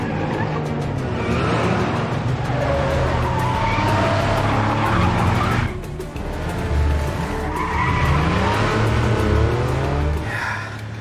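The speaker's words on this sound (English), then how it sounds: "Convinced that the cars chasing him were his mother's bodyguards, Oliver tried to lose them." Cars roar past with loud, drawn-out tire squeals and skidding, engines revving throughout in a continuous, close chase.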